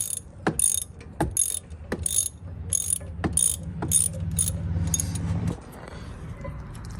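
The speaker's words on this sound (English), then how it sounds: "So now what we're doing is we're taking the bolts off to decompress the caliper so we can change the brake pads." Ratchet clicking in several quick bursts while brake caliper bolts are loosened on a 2018 BMW 330i, close and fairly loud, with short pauses between strokes and a steady low hum beneath.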